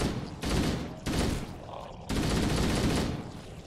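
Enemy weapons fire in the video game Halo: Combat Evolved, heard as several dense bursts of shots separated by brief lulls, moderately loud and without talk.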